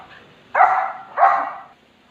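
Two dogs bark in a home, two loud sharp barks about half a second apart, each ringing briefly, with a quiet room before and after.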